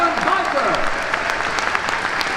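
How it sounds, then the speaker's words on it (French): Audience applause fills the stands at the Motors Action Stunt Show at Disneyland Paris, a steady clapping wash for a stunt biker, with an announcer's voice heard over the start. "Put your hands together for our stunt biker."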